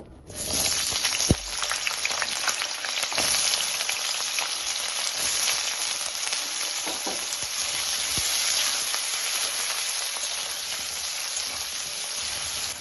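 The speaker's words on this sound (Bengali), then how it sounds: "এবার কিছুটা আলু আমি লম্বা লম্বা করে কেটে নিয়েছি, সেই আলুগুলো ভেজে নেব।" Long-cut potato sticks fry steadily in hot oil, a loud, dense sizzle that holds evenly throughout with a few brief clicks of stirring.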